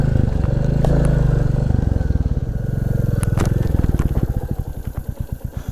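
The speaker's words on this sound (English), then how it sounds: "this 350 Classic is not a dirt bike, of course, but it does pretty well with this stuff" A Royal Enfield 350 Classic motorcycle ridden off-road, its engine loud and close, settling into a distinct thumping single-cylinder beat toward the end with some clatter over rough ground.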